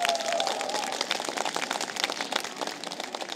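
An outdoor crowd at the opening of the Magdeburg Christmas market claps for a young musical performer, with light, scattered, uneven clapping that sounds somewhat distant.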